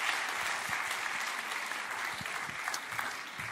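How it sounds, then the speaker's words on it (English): A church congregation gives the Samco team a sustained round of applause, an even, fairly soft wash of many hands clapping throughout, tapering slightly near the end. "Let's give a big round of applause to the Samco team."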